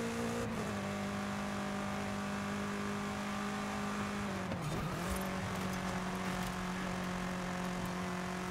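A race car in Forza Horizon during a seasonal championship race, a steady loud engine drone that dips as the car brakes midway, with a brief tire squeal, then holds steady again.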